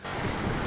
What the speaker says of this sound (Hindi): बारिश हो रही थी।